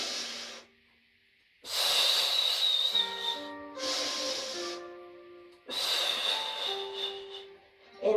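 Slow guided breathing, in through the nose and out through pursed lips, during a Pilates session: long, soft airy hisses alternate with near silence, while a quiet sustained musical tone plays underneath.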